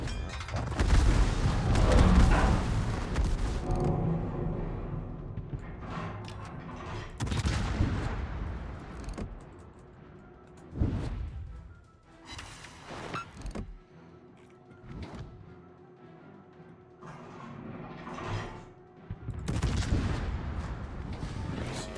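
Naval gunfire from warships in World of Warships, heavy booming salvos and rumbling blasts repeating through the stretch with loud bursts at the start, middle and end, no talking.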